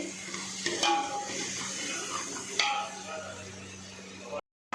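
Masala rice spices being stirred and roasted in a hot pan, with a light sizzle and a few sharp scrapes of a utensil against the metal, close by.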